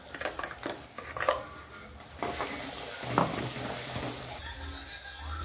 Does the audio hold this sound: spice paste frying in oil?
yes